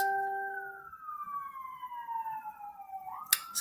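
Police sirens in East Baltimore wail along a city street, a steady falling tone sliding down as the vehicles pass, with a brief sharp burst near the end over low street rumble.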